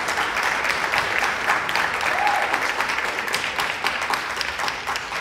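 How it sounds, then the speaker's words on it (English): Audience at a high school jazz band concert gives steady, even applause, a dense patter of many hands clapping throughout with little else present. "Can we get a round of applause for these folks out here?"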